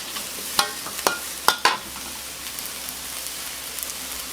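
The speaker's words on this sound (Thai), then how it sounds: "ผัดอีกสักครู่ให้เข้ากันนะคะ" Keto vegetables being stir-fried in a pan, a continuous hiss of frying under a few sharp spatula knocks and scrapes spaced through the clip, fairly close and moderately quiet.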